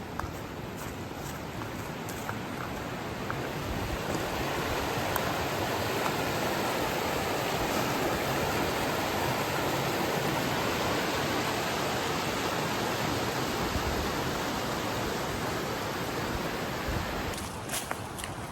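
Creek water rushes and burbles continuously nearby, a steady broad hiss of flowing water with no pauses.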